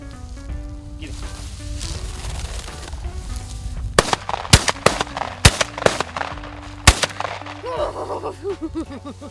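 Shotgun blasts while hunting wild bobwhite quail in open country: a quick run of sharp, loud reports close together midway through, then quieter rustling and faint outdoor background.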